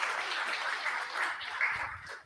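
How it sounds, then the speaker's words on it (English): Audience applause at a July 2023 JavaScript tech meetup, a steady wash of clapping from the room that holds for about two seconds before fading out. "A huge round of applause"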